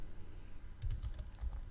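Typing on a computer keyboard while writing code, a brief, faint patter of a few soft key clicks set against low background hiss.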